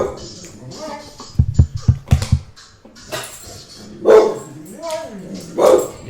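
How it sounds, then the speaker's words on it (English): A dog gives several loud, close barks and yips in quick bursts, then louder single barks, while someone talks around them indoors. "the dog's barking"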